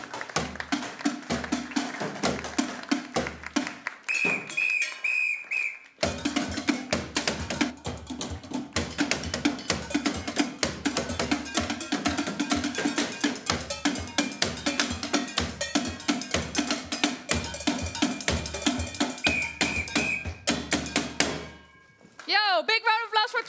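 A percussion group plays a steady, loud run of struck beats on found objects with cowbell-like clanks and thunks at an event on rethinking waste, pausing briefly midway and breaking off near the end.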